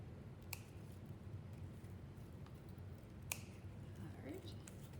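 Harvested plants are snipped near the soil with scissors or shears. A few short, sharp cutting clicks come over a quiet rustling background, and a voice speaks softly.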